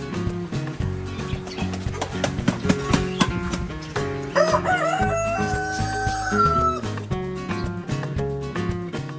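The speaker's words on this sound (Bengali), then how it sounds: "পাখি প্রেমীদের জন্য রয়েছে একটি আলাদা বার্ড জোন যেখানে দেখা মিলবে বিভিন্ন দেশীয় পাখি মুরগি আর মোরগ" Native roosters crow and chickens cluck in a bird enclosure at an eco resort near Dhaka, a loud drawn-out crow rising over busy background music and clatter.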